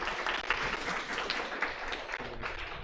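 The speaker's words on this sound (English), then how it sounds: "can you guys give a big round of applause?" An audience at a Data Council tech talk applauds a speaker, a dense, steady wash of many hands clapping that carries on evenly throughout at moderate loudness.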